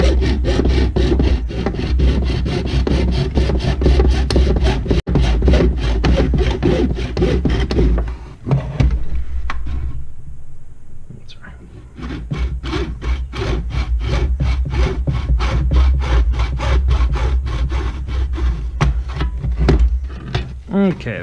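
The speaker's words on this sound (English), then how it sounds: "I'll go and cut the top of this." A knife saws through the plastic top of a Bruder D11 bulldozer model being converted to radio control, in steady back-and-forth scraping strokes up close. A brief pause comes midway, and a person talks over the cutting.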